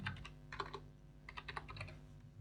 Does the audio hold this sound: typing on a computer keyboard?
yes